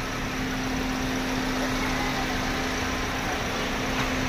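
The 1.3-litre engine of a 2017 Toyota Vios with manual transmission runs at a steady idle during an inspection, a constant close hum with a faint tonal drone and no talk.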